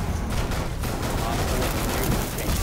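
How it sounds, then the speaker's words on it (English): Heavy gunfire in Tom Clancy's Rainbow Six Siege: a dense, loud barrage of rapid shots and booms filling the whole moment, close by, with voices talking over the firing. "that shooting goes nuts"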